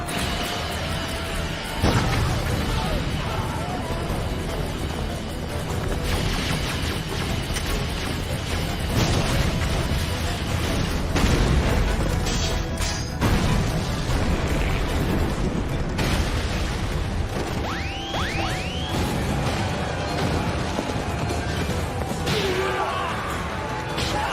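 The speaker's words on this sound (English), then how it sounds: "Brilliant detonation!" A brilliant detonation attack from The Seven Deadly Sins anime, a sustained roaring blast with dense rumbling crackle and repeated booming surges over about twenty-four seconds, loud and unbroken throughout.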